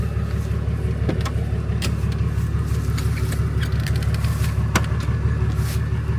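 Small portable air compressor for pumping up car tyres runs with a steady droning motor hum and a rhythmic pulsing chug, constant and fairly close, with no talking.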